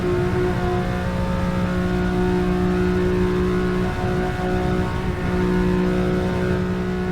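A Ferrari 365 GTB4 engine holds a steady, loud, droning tone at speed on the Le Mans circuit, the pitch dipping briefly midway before settling back without a break.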